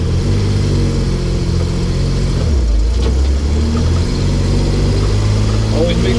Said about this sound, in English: The Unimog is a high revving engine, so do not feel hesitant to have high RPMs before you shift